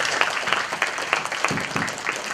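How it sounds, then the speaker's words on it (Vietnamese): Audience applause at a Buddhist Dharma assembly in a temple hall, in honour of a nun: a steady wash of many hands clapping at close range, loud and continuous throughout, with no talk over it. "Quý vị cho sư cô một tràng pháo tay."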